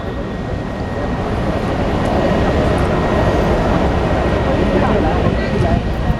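Two 5,000-plus horsepower harbour tugboats shove against each other at a Vancouver port marine demonstration, giving a steady, loud broadband engine roar and water churn that holds throughout without letup.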